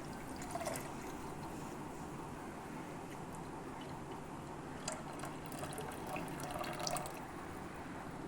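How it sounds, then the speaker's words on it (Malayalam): Jaggery syrup pours steadily into coconut milk for Knanaya Pesaha appam and milk, giving a continuous liquid trickle and splash that runs throughout at moderate, close level. "അതിനകത്തേക്ക് നമുക്ക് ശർക്കര ഒഴിക്കാം"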